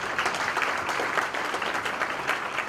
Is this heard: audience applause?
yes